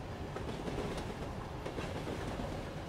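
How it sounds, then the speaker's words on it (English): A train running along its tracks, heard as a steady, continuous rumble with faint rhythmic clatter throughout, moderately loud and without voices. "the sounds of the tracks beneath the train is the only aspect that gives away the illusion"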